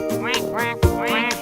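A duck's quack, likely a sung or imitated 'cuac', sounds once over a bouncy, harmonic children's animal-song backing in Spanish.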